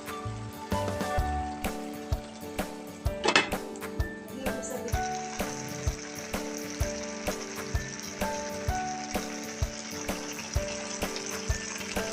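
Squash and sweet potato leaves sautéing in a pan, a steady close sizzle and crackle of frying with regular clinks and scrapes of a utensil stirring against the pan.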